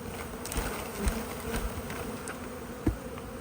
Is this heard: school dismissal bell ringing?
no